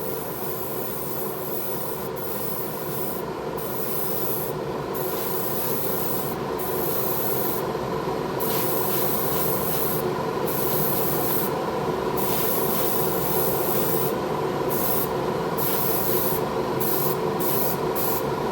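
Continuous hiss of an airbrush laying down SMS chrome paint in a double coat, steady and close for the whole stretch with slight pulses as the trigger eases, no voices.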